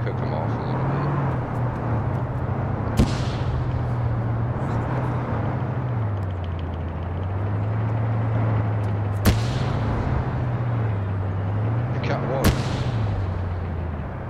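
Grenades bouncing off a building and exploding in Arma 3, three sharp, separated blasts over a droning low engine hum, with voices talking throughout.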